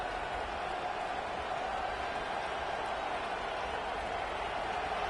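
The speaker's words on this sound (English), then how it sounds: "Now the crowd responding in the red zone" Steady stadium crowd roar from a College Football 25 game during a red zone defensive stand, a broad continuous wash of cheering and noise that holds level throughout without breaks.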